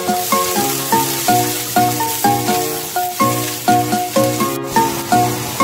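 Mung bean sprouts and noodles stir-fried in hot oil, a steady sizzle broken by rhythmic scraping strokes of a spatula against the wok, close and fairly loud, with no talking.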